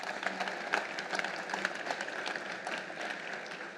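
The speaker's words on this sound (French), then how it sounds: "je pense qu'on peut applaudir nos intervenants" Audience clapping for panelists after a round-table discussion on French defense industrial sovereignty, a continuous crowd of hands at moderate level with a few crisp claps standing out.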